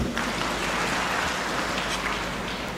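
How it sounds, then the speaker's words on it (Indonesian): Crowd applause in a hall at a university graduation ceremony, Universitas Amikom Yogyakarta, a steady, dense, rain-like wash of many hands clapping at even loudness throughout. "Tepuk tangan"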